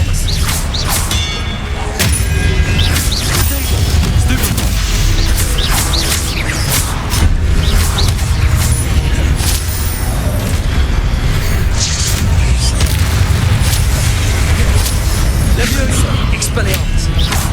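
Spellcasting combat in Hogwarts Legacy, with repeated Expelliarmus casts: dense, loud booming magical impacts and thuds follow one another rapidly over a continuous rumbling low layer, with sharp bursts and game effects throughout.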